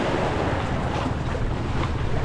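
Rough, choppy sea water churns and sloshes against a rocking boat under steady wind noise, a dense continuous wash with no talking.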